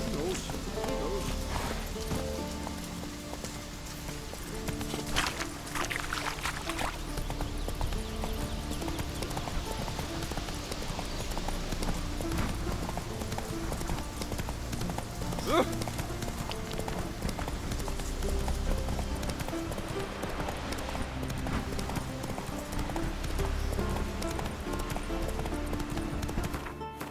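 Horse hooves clip-clopping while riding in The Witcher 3, a steady rhythmic trot under a game music bed, with occasional spoken lines and a brief neigh along the way.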